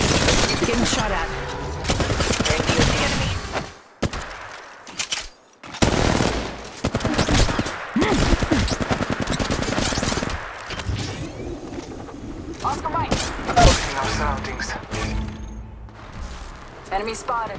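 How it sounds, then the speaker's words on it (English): Rapid gunfire bursts in the video game Apex Legends Mobile, with repeated loud volleys and short pauses between them, set in a dense, chaotic combat soundscape. "Getting shot at."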